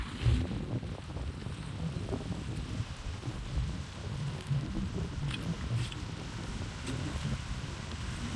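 Steady wind buffeting the microphone at a dam, a low rumbling roar with gusty surges throughout, no voices.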